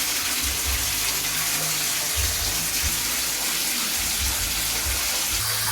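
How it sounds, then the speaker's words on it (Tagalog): Water gushing steadily from a tap into containers being filled, a loud, constant rushing stream heard up close with low gurgling underneath. "Tuloy-tuloy ang tubig"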